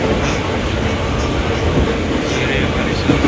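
A metro train runs at speed with a loud, steady rumble and faint wheel clatter heard from inside the carriage, a continuous roar that carries throughout.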